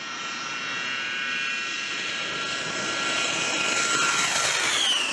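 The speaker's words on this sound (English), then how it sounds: "Combat controllers oversee the plane's takeoff after checking the runway is clear" A US A-10 jet aircraft takes off from a highway strip, its engine roar loud and steady, rising with a climbing whine toward the end.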